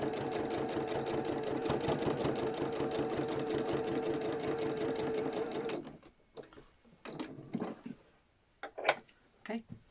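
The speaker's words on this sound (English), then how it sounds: "Okay, 2 lots of top stitching done" Sewing machine top stitching a zipped top bag runs as a steady, loud mechanical whir for about six seconds, then stops, leaving scattered light handling clicks and rustles.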